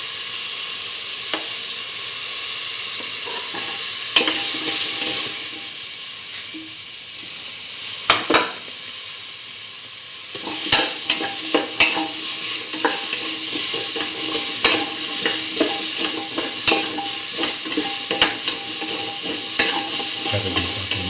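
Green chili sautéing in a pan, a steady loud sizzle running throughout with repeated scraping stirs and small clinks of a utensil against the pan, no voices.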